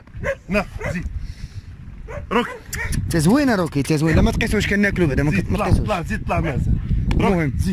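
A dog yips, whimpers and barks in bursts close by, mixed in with someone talking almost continuously to it and coaxing it, with the dog's high whines rising over the voice.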